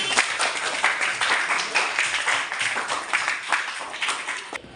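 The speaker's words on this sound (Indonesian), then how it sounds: "Tepuk tangan untuk Suci." A classroom of students claps for a classmate after a good answer: dense, steady applause runs evenly for the whole stretch, close and fairly loud, with no voices standing out.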